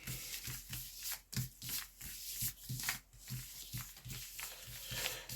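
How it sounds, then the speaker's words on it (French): Tarot cards being shuffled by hand, a close, soft, rhythmic riffling and rubbing that repeats steadily with no voices over it. "je vais brasser le tarot"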